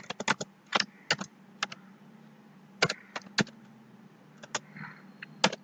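Irregular bursts of crisp keystrokes on a computer keyboard while entering HTML code, close and clear over a low steady hum, with short pauses between clusters of taps.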